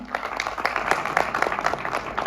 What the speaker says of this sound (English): A little more round of applause